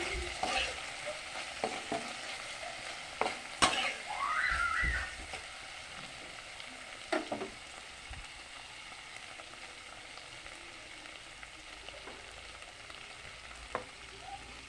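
Egg chilli with black pepper stirred in a frying pan, a steady soft sizzle under occasional sharp spatula knocks and scrapes, close and moderately quiet, no voices.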